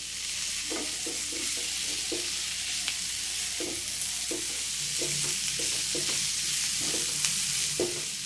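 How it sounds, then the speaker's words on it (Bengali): Chicken coated in tandoori masala is stirred in a hot pan, a spatula scraping and knocking in uneven strokes over a steady, loud sizzle of frying. "তন্দুরি মশলাটা দেওয়ার পর আমি আরেকটু এটাকে নাড়াচাড়া করে নেব, যাতে মশলাগুলোর সাথে খুব ভালোভাবে চিকেনটা মিক্স হয়ে যায়"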